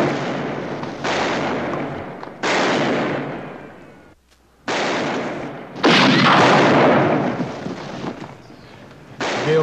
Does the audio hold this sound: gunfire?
yes